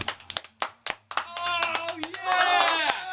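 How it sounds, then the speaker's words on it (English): A handful of sharp, separate slaps or claps, heard up close and crisp, quickly followed by a voice talking and singing, while a low steady hum runs underneath the whole time. "You get a foot clap."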